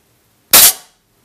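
A 6.35mm pellet from a Cometa Fenix 400 Galaxy air rifle striking a target, a single sharp, loud crack that decays quickly into near silence.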